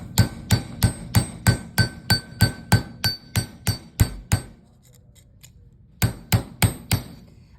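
Texturing hammer striking tape-covered steel wire on a hard surface: a run of about fourteen sharp, ringing metallic blows at a steady brisk rhythm, a short pause, then a few more, close and loud.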